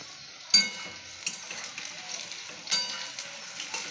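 Fried fish and an egg cooking in a pan give a soft, quiet sizzle, with a few sharp clinks of a utensil against the pan. No one speaks.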